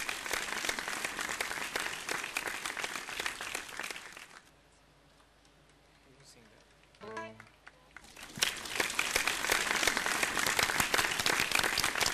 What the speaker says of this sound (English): I request a loud round of applause, please.